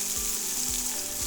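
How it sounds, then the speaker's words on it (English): Courgettes, broccoli and spring onions fry in a pan still holding steak juices, giving a steady, close, even sizzle with a couple of soft low knocks and no voices. "Fry nicely"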